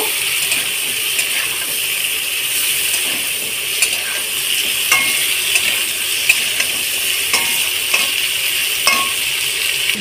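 Potatoes and vegetables sauté in a pan for chicken soup, with a continuous bright sizzle and scattered clinks and scrapes of a utensil stirring against the pan, and no one speaking.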